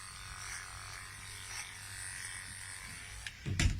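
Electric dog clippers buzz steadily at close range while trimming the inside and back of a dog's leg during grooming, a continuous hum with a brief louder bump near the end.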